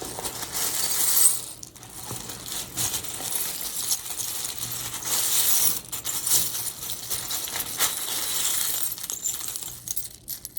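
Tarot cards are shuffled for a reading, producing bursts of brisk papery rustling and light clicking that come and go over several seconds, with no one talking.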